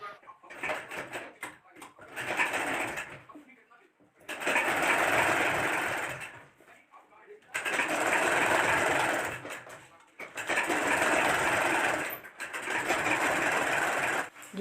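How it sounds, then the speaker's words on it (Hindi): A sewing machine stitching churidar pajama fabric runs in four or five sustained bursts of a few seconds each with brief pauses between, close and clear, with no talking. "तो चलिए अब हम इसमें सिलाई लगा लेते हैं पहले।"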